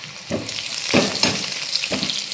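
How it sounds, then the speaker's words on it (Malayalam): Mustard seeds and dried chillies sizzle and crackle in hot coconut oil, a steady close frying hiss broken by several sharp bursts of popping, with no talking. "നമ്മൾ കടുക് പൊട്ടാൻ തുടങ്ങിയിട്ടുണ്ട്"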